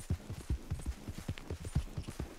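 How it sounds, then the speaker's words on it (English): Steady clip-clopping hoofbeats of a horse at a walk in Red Dead Redemption II, a regular rhythm of soft thuds close by, with no talking. "Let's get up on the horse"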